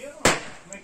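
A single sharp firecracker bang bursts out abruptly and fades quickly, amid a faint background of voices, during a riverside fishing trip and barbecue.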